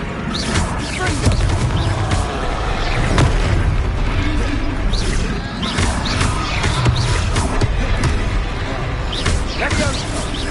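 Confringo spell explosions in Hogwarts Legacy on PS5 boom and crack through loud, dense battle noise, with bursts recurring over the stretch and voices shouting among them.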